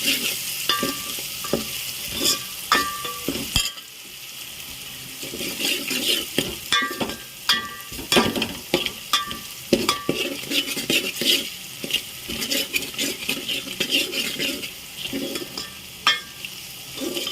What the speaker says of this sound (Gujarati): આપણે બધું આ રીતના મિક્સ કરી લેવાનું છે.